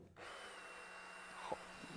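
A cordless power screwdriver whirs steadily at close range, a continuous motor drone with a small knock partway through.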